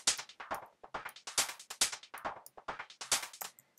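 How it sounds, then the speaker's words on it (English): A looping trance percussion pattern of bright metallic hits whose tone opens and closes as an LFO sweeps the low-pass filter cutoff, repeating in a quick, even rhythm. "So what we're going to do is just assign the LFO to the cutoff."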